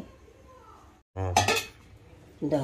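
A pot lid clanks into place on a pot of boiling lentils on the stove, one short metallic clatter after a brief hush, with faint kitchen noise around it.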